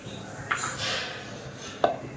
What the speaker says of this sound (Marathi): तोपर्यंत हे भाजलेले शेंगदाणे हे वाटून घेऊया